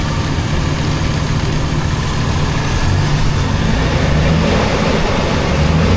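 A modified truck engine runs loud and continuous nearby, its low rumble steady with a slight rise as throttle is applied; no talking.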